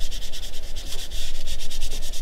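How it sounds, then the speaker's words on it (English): Hand sanding a boat hull area with 600 grit sandpaper, a close, steady rhythmic rasping of quick back-and-forth strokes with no talk. "the next thing I like to do is sand that area down. I've got some 600 grit here"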